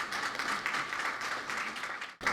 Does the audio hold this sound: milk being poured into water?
no